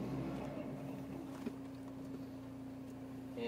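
A 1990 BMW E30 M3 engine settles back to a steady idle just under 1,000 RPM, a low, even hum with a constant tone and light wind noise, heard alone.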